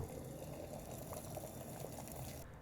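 Water boiling in an electric kettle: a faint, steady rumbling bubble with a continuous hiss, even and unbroken throughout.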